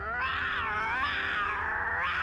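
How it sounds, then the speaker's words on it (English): A lion's roar: one long, drawn-out, strongly tonal cry that swells and wavers for about two seconds, loud and alone with no other sounds. "Hear the roar."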